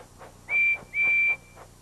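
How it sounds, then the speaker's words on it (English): Two high, steady whistle blasts from a cartoon tank engine, a short one followed by a longer one, close and clear against near silence. "Percy blows his whistle to help Thomas find him."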